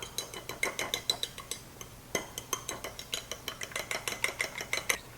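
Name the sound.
fork beating seasoned egg mixture in a dish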